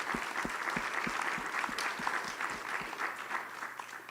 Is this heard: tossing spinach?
no